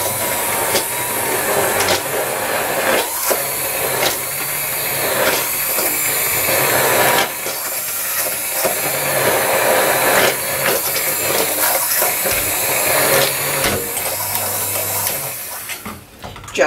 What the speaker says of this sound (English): I'm going to bring my bar mix over here and liquefy all that